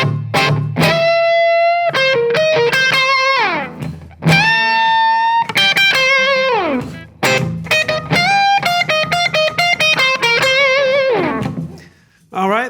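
A distorted electric guitar plays a fast blues lick, bending and sliding notes in quick runs with sustained tones, loud and alone.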